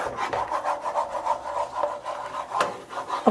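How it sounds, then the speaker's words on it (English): Spoon stirring a flour mixture in a pot for green bean casserole: a continuous scraping, rubbing rhythm of repeated strokes, close and fairly loud, with no voices. "So you're just going to keep mixing this just for a few seconds, 60 seconds or so"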